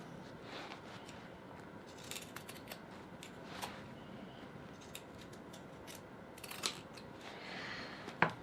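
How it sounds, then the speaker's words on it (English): Pinking shears cutting around the curved areas of fabric, a quiet series of soft crisp snips at an irregular pace, close and faint, with no talking. "go around the curved areas with the pinking shears"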